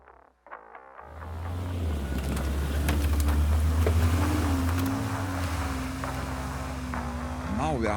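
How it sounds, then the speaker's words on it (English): Two ATVs drive through a wild forest with four people aboard, a loud steady engine drone rising after a quiet start and holding close throughout, with rattles and bumps over the terrain. "Now we are moving across the wild forest on two ATVs, looking for interesting obstacles."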